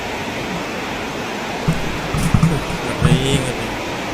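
Floodwater from the Sungai Golok river in Malaysia rushes past in a constant loud roar, while people speak briefly over the flow.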